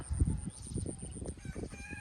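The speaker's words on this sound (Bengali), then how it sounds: "সকালে মোরগের ডাক।" A rooster gives a short morning crow with clucking undertones, fairly close and clear against a quiet outdoor background.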